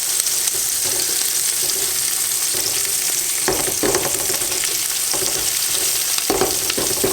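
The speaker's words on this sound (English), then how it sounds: "That's sizzling on." Green beans and onions sizzle and crackle steadily in a hot pan, a dense close hiss with occasional scrapes of stirring with tongs, no voices.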